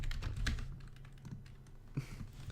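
Rapid typing on a computer keyboard, a steady run of close, soft key taps with a few heavier keystrokes, heard alone with no talking.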